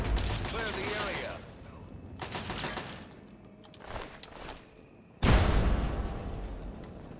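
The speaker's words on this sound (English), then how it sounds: "What even caused that explosion?" A loud, sudden explosion in the video game Fallout 3 lands partway through, a sharp burst followed by a sustained rumble, after a stretch of game sounds and faint mechanical noise.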